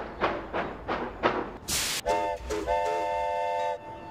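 Trains arriving at a station in the city-building game Kapital: Sparks of Revolution, a few rhythmic chugging bursts, then a brief hiss and a sustained, clear whistle-like tone.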